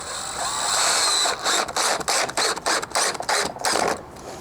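A DIY gutter part is screwed in with a rapid, ratcheting mechanical whir that comes in choppy bursts, close and steady, with no talking.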